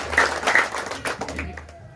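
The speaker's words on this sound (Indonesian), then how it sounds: "Tepuk tangan dulu." A crowd at a community gathering in Ndao breaks into brief clapping, scattered and close, mixed with voices before fading out within two seconds.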